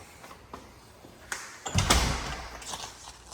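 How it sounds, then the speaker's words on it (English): The front door of a house opens with a soft click followed by a brief, louder rattling thud, close by. "Walk in here through the front door."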